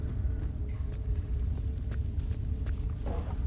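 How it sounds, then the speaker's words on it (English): Footsteps inside a room in Fallout New Vegas, a series of soft thudding steps over a low rumbling background, moderately close and fairly regular, with no one talking. "Yeah, I can hear the footsteps inside that room over there."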